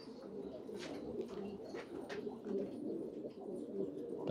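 Pigeons coo steadily in repeated soft, low calls, close by and moderately quiet, with faint chirps and light background noise and no talking.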